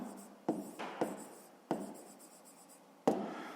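A pen writes out a fifth-grade maths solution on paper in a quiet room, making soft scratchy strokes with a few sharper taps as it touches down, close and without speech.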